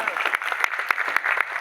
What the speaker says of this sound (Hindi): एक बार जोरदार तालियां हो जाए मस्तान सर के लिए।